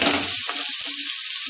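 Potatoes fry with turmeric, red chili powder and green chilies in a pan, a bright steady sizzle with a brief stirring scrape partway through, close and loud with no talk.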